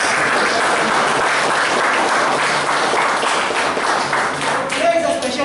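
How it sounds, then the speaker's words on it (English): Audience at a Toastmasters club meeting applauds in a steady, dense wash of clapping that fills the room, with a voice emerging near the end. "And let's give a big round of applause."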